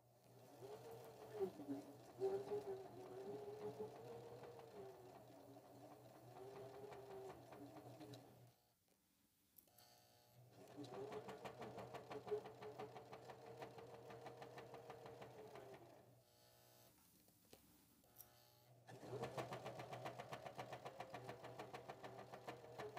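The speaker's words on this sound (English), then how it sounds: "Put our presser foot down, take a couple stitches, go back, and sew all the way down." A sewing machine stitches a child's slumber sack in three runs of fairly faint, steady, whirring mechanical hum, separated by short stops.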